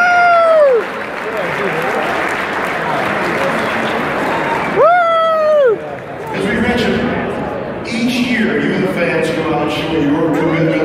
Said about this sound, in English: Please hear a round of applause for Rock, Tim Raines.